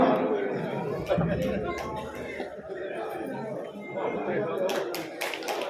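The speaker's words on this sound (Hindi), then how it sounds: "जोरदार तालियों से विधायक जी का अभिनंदन करेंगे।" An audience at a BJP organisational ceremony applauds to welcome a newly elected MLA, scattered clapping and crowd chatter with some chuckles running throughout, mixed under a speaker's voice.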